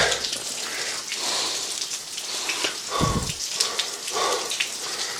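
Water pours and splatters steadily down a mine shaft during a rope descent, a dense, close hiss with bursts of heavier splashing and no talk.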